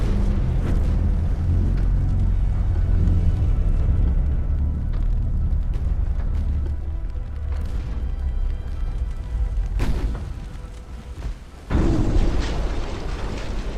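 A torpedo strikes a warship in the naval battle game Ultimate Admiral: Dreadnoughts, producing heavy, sustained booming rumbles with deep low-end roar, a burst near the end and a fresh loud swell of blast noise.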